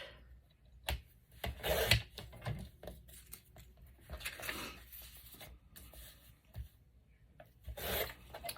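Paper pages of a book being trimmed down to the printed words, heard as short, close rasping and scraping strokes in uneven bursts separated by quiet gaps.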